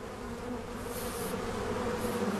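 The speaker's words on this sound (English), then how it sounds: "I thought I was scot-free, but the bees were madder than ever" A swarm of angry bees buzzes in a dense, continuous drone around a person being stung, close and steady throughout with no let-up.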